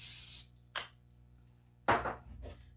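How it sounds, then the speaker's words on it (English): A short burst of cooking oil sprayed into an air fryer basket before breading okra, hissing up close, then two more quick spritzes with pauses between, no talking. "I am going to spray it a little bit because I'm going to bread this okra."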